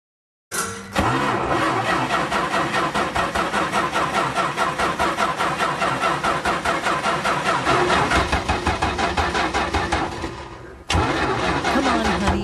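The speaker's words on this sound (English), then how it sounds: "I'm so sorry, Mr. Edwards, my car is having a fit. It's so hard to start sometimes." A car engine cranks repeatedly in a long, rhythmic churning starter whine that fails to catch, stops briefly near the end, then resumes cranking, close and loud with no talking over it.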